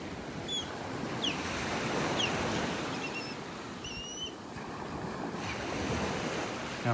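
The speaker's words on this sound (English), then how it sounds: "That was the osprey." An osprey calling by a beach in North Naples, Florida, a few faint thin whistled chirps scattered over a loud, steady wash of surf and wind.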